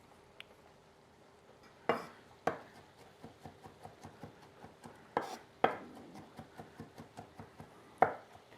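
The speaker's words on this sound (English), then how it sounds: "I'm just cutting them crosswise, and then I'll do a little rock and chop on them to make them smaller" A knife chops green olives on a cutting board in a quick run of light, even taps, punctuated by a few louder knocks of the blade rocking down, close and clear with no talking.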